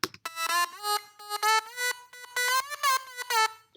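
A bright, harmonically rich synth lead from a Melbourne bounce drop plays a bouncy, choppy melody of short pitched notes with slight pitch bends, loud and alone with no voices.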